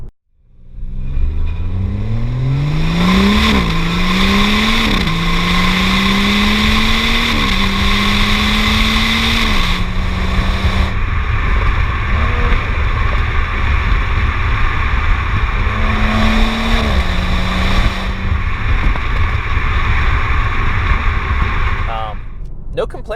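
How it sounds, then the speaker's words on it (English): A 2016 BMW 340i accelerates hard, its exhaust note climbing in pitch through several gear shifts before settling into a steady cruise, then swelling again; loud, close and continuous throughout. "The exhaust note sounds great, so you'll be able to check that out."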